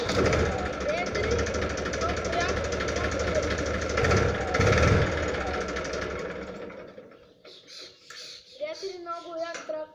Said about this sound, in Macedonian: Ето запалимото мојот трактор